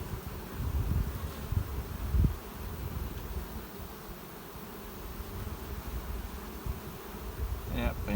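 Honeybees buzzing on the comb of an open hive, a steady dense drone that stays close and fairly quiet, with faint rustling and no talk over it.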